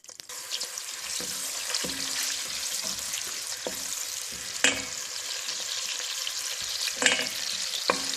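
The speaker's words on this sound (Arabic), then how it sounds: "هسه عيني اضيف البصل اول شي احمسه" Onions sautéing in butter in a home kitchen pan for an Iraqi white tashreeb dish, with a steady close sizzle and a few louder stirring scrapes scattered through, no voices.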